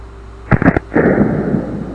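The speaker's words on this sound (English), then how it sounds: "that firing pin striking that primer" A blowback-operated firearm fires, with a short cluster of sharp pops followed by a loud, rushing blast that fades over about a second.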